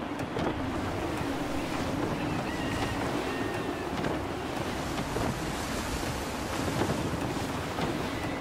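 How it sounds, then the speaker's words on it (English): Gusty wind sweeps over rolling sea waves around a sailing ship in the Assassin's Creed 3 video game, a loud, dense, continuous rush of surf and blowing air with no talking. "Gusty winds can be difficult to manage."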